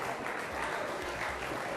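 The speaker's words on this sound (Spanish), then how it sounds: "Un aplauso para vos." Audience applause at a Galician television quiz show, a short burst of steady, moderately faint clapping from the studio crowd.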